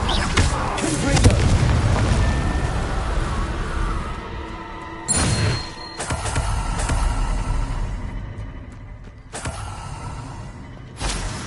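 Confringo fire-spell blasts in Hogwarts Legacy: loud booming bursts with creaking, rumbling game effects, several sharp impacts spaced a few seconds apart over a dense, roaring background.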